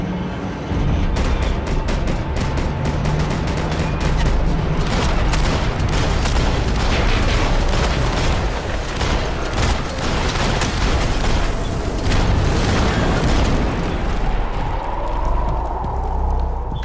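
Sustained heavy gunfire in Max Payne 3, a loud, dense barrage of rapid shots and booming bursts rattling continuously for many seconds with little pause.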